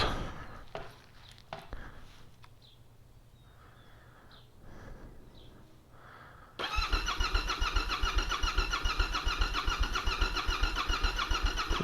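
Quiet outdoor ambience with a few crow caws, then a Yamaha Tenere 700 motorcycle engine cranks and roars to life, settling into a steady loud idle.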